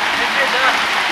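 Rain falls at a waterfall site in Bali, a dense, loud wash of hiss heard close and continuous for a moment.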